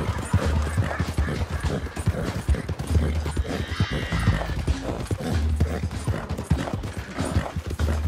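Horse hooves galloping in Red Dead Redemption 2, a steady close clip-clop rhythm that runs the whole time over a dense layer of game sound, with an occasional whinny.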